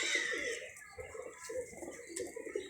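Pigeons in a home loft coo softly in short rolling phrases, close and fairly quiet, with a few faint background sounds between calls.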